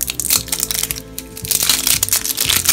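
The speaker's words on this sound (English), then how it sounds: "Unwrap, pop the top." Blind box toy packaging being unwrapped, likely plastic, crinkles and crackles in quick, close bursts with short pauses between tears and crumples, heard alone without talk.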